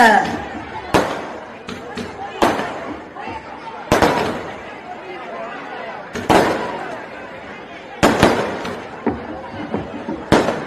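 Sharp firecracker bangs burst out every second or two, each with a crackling tail, while a crowd chatters and a voice speaks over the noise.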